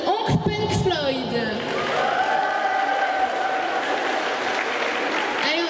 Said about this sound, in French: Allez, on applaudit toutes les joueuses